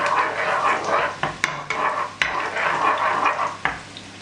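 Garlic, ginger, onions and lemongrass sizzle in a hot pan for a Filipino ginataan, a steady crackling fry broken by a few sharp clicks of a spatula against the pan, close and continuous.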